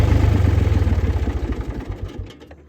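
A tractor engine runs just above idle, close and loud, with a steady chugging pulse that gradually slackens and fades out as it winds down toward the end.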